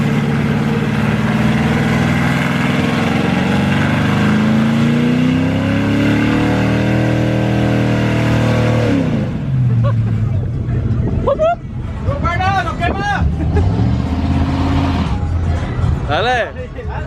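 A Dodge Hellcat with a tuned exhaust roars through a long, rising rev during a one-wheel burnout, then cuts off while voices chatter and shout close by.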